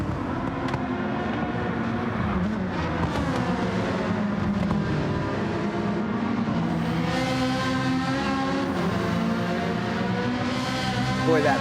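A Peugeot race car's engine revs and drones through a series of S-curves in a racing game, a continuous high whine with rising and falling pitch sweeps, heard under commentary.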